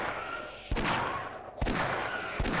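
Revolver shots fired in the Half-Life video game, three sharp broadband blasts spaced under a second apart over a dense, noisy in-game background.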